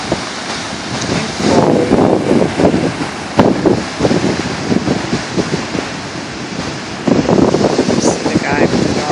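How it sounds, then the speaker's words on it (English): Strong wind buffets the microphone at Ocean Beach, California, a loud continuous roar with surf mixed in, while a person speaks briefly over it. "It's really windy"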